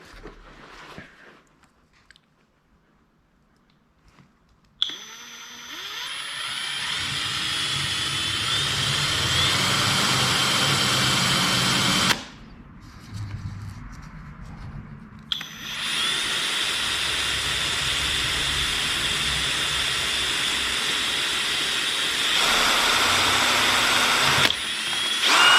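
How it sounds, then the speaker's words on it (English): A power drill bores holes during repair work on a New Holland machine, a loud sustained whine running for long stretches, briefly stopping and restarting, with quieter handling noise between runs. "I got to find and drill these two holes yet"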